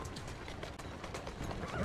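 Horse hooves clip-clop in a steady run through Assassin's Creed Syndicate, a continuous rhythmic patter of hoofbeats close up and fairly loud over a busy game background, with no talking.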